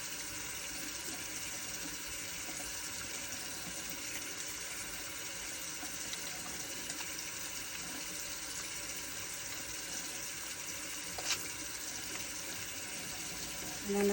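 Tap water runs steadily into a sink during handwashing, giving a faint, continuous hiss that stays even from start to finish with no clear voices over it.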